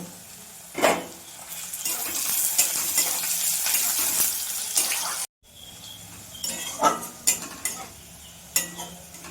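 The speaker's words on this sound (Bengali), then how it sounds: "প্রথমেই আমি পেঁয়াজগুলো ভেজে তুলে নেব। পেঁয়াজের সাথে রসুন কটাও দিয়ে দেব।" Sliced onions and garlic frying in hot oil, giving a dense continuous sizzle close by, with occasional louder spatula knocks and a brief break partway through.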